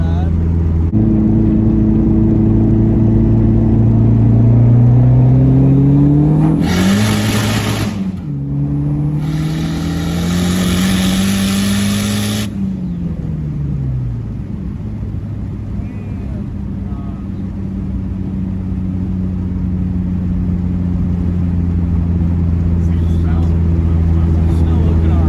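A 400HP big-turbo Dodge SRT4 engine accelerates hard through the gears. Its loud, rising drone breaks at a shift with a rushing burst, climbs again, then settles into a steadier cruising hum.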